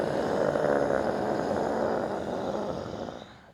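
A low, growling, guttural exhale driven from the stomach in a yoga breathing exercise with bent knees, made as one long, rough, grunt-like breath that tapers off.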